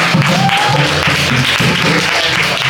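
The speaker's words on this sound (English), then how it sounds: "I just want you to give yourself a big round of applause." Applause from the audience at a farming-as-a-business graduation ceremony, a dense, steady wash of many hands clapping in a hall, loud and sustained throughout with some faint voices mixed in.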